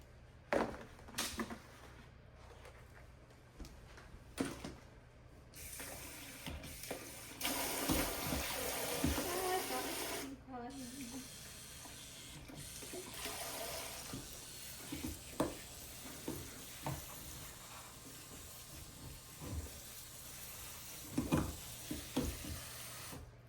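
Seedling trays being watered indoors under a grow light stand, with bursts of pouring and splashing water, intermittent trickles and handling knocks, close by and without talk.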